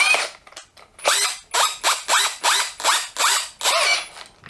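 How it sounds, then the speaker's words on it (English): A handheld power drill in drill mode spins up to high speed in a series of about seven short, loud whirring bursts with brief gaps between them, heard close up and with no talking. "we'll stick it back up at high speed. We're in drill mode"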